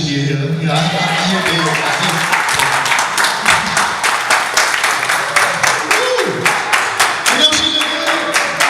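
Audience applause at a family reunion celebration of life, with steady dense clapping running throughout, sharp individual claps standing out, and a few voices and shouts mixed in underneath.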